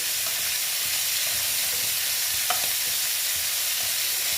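Koi fish frying in hot oil in a pan for koi macher tel jhal, a steady loud sizzle and crackle of oil with a faint stir or clink partway through.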